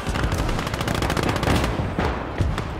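Rapid automatic fire rattles in a WWII combat video game, a dense, loud stream of gunshots with a few heavier booms near the end, continuous with no talking.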